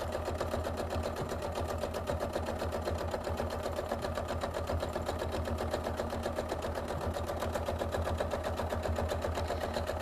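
A sewing machine quilts fabric in a quilt-as-you-go project, its needle chattering in a steady, fast, even rhythm that runs close and continuous throughout with no talking.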